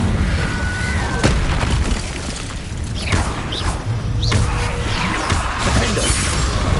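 Incendio fire spells are cast in the video game Hogwarts Legacy, with repeated bursts, whooshing crackles and crashing impacts in a loud, busy combat mix.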